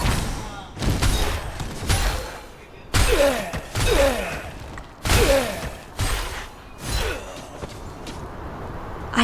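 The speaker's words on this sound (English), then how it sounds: "I can hear deafening cannon fire coming from the bulwark's core." Heavy cannon fire from a bulwark's core in the video game Torchlight: Infinite booms in irregular volleys, each a loud thud with a rumbling tail, over a low roar of battle noise.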